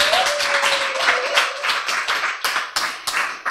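Audience clapping along in steady rhythmic beats at a church recovery-testimony seminar, fairly close and loud, with a faint sustained sung or hummed tone underneath at the start.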